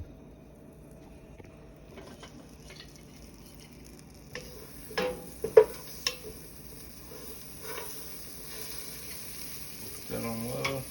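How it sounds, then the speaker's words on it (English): Butter melting over low heat in a pan for German goulash, a soft steady sizzle rising after a few seconds, with scattered clicks and clatters of utensils and cookware nearby. "Just melt some butter."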